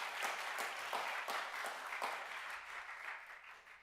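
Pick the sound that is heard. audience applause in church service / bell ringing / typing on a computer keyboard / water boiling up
audience applause in church service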